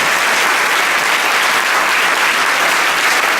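Dense, steady applause from a church congregation at a Sunday service, loud and continuous throughout with no voice over it.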